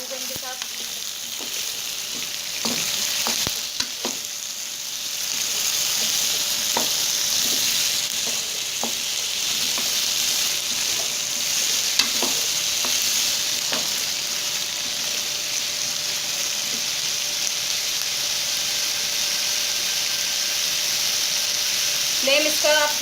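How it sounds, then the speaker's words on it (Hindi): Potatoes frying over high heat in a pan with garlic, cumin and green onion give a steady, bright sizzle throughout, with occasional soft clicks from stirring and no talking. "अब हम इसके अंदर अपने ये आलू ऐड कर देंगे। इसको आपने 2 मिनट फ्राई कर लेना है आलू को इनके साथ।"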